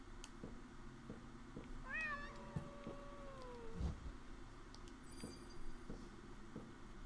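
A cat meows in a horror video game, a single drawn-out rising and falling meow heard clearly over a low droning background hum, with a faint thump and distant chirps.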